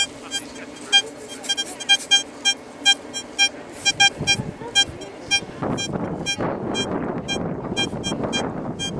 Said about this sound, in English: we're definitely getting a signal here with the DeepTech